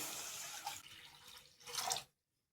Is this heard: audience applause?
no